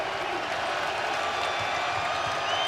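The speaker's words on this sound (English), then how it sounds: "Crowd coming back to life here in Hartford." A crowd in a basketball arena in Hartford cheers and applauds at a college tournament semifinal, a steady, dense roar of clapping and voices that fills the space.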